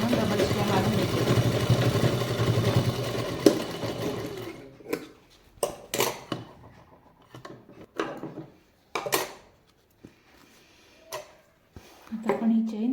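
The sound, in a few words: sewing machine double-stitching a purse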